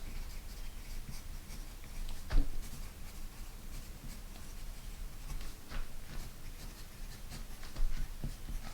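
Handwriting on paper with pen scratches and small taps, continuous and fairly quiet at close range, with no talk.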